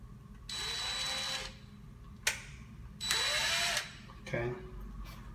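A power drill runs in two separate bursts, spinning a reversed flip bit against a stripped screw, each run about a second long with clicks and clunks of the tool between them; a person talks quietly in between.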